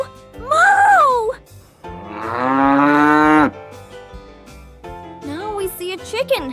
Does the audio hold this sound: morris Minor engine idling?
no